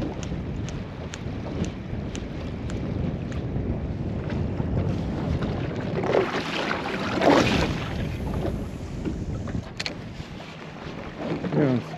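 A boat approaches across Liepāja lake, a low steady rumble of motor and water with wind buffeting the microphone, swelling louder briefly near the middle before settling back; no talk.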